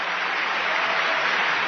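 Applause from a crowd of thousands at an arena fills the clip as a dense, continuous wash of clapping with no break and no voices.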